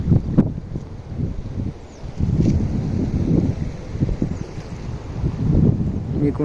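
The overflowing Pakala stream in flood gives a low, rumbling rush of water, uneven in strength, with heavy wind noise on the microphone.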